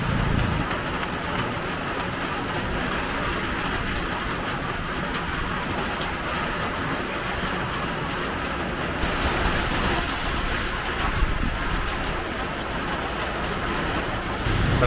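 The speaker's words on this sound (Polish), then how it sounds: "właśnie zaczął deszcz napierdalać" Heavy tropical rain pours steadily in Cebu, Philippines, a dense, even roar of water on surfaces with faint traffic or engine rumble beneath it.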